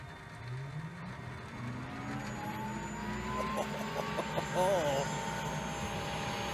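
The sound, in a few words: helicopter turbine engine starting up in video game Ultrawings 2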